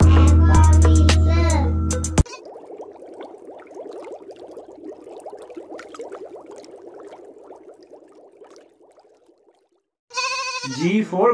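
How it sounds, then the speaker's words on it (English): A goat bleats in a children's phonics alphabet song. After a loud musical opening, a wavering, trembling bleat runs for several seconds and fades out, then the music returns. "G for goat. G for goat."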